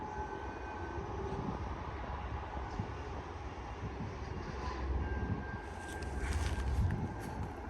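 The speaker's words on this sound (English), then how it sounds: "Alright, there's the train for northbound." A freight train hauled by a Progress Rail locomotive passes at a distance, a steady low rumble of rolling wagons that swells slightly near the end, without talking.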